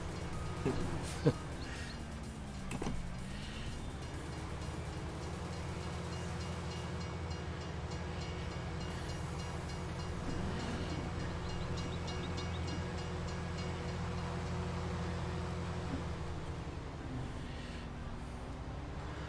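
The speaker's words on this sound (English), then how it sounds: "I think we better do something about that train." A train passes in the farming video game AgriValley, a steady low rumble with tonal engine drone that dips and bends, plus a brief sharp clank early on, loud and continuous throughout.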